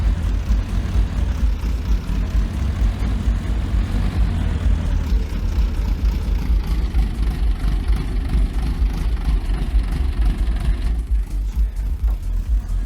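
An Ursus C330M tractor engine runs steadily during an autumn potato harvest, a loud continuous low diesel rumble with a throbbing idle character that holds for the whole stretch, with no voices.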